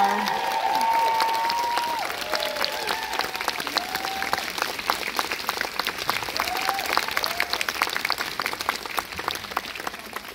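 An audience at a London IMAX film world premiere applauds, dense clapping with some cheering and voices mixed in, continuing steadily throughout.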